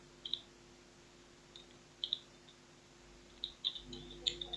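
Light clicks from a computer keyboard come in small clusters with short pauses between them, faint against a quiet background hum.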